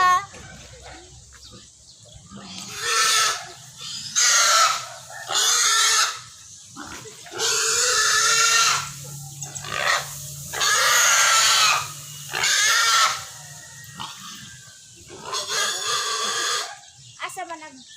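A pig being butchered on a slaughtering table lets out repeated loud, drawn-out squeals in long bursts with short gaps, while people talk and chickens cluck nearby.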